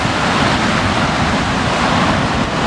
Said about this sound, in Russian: И вот море такое шумное.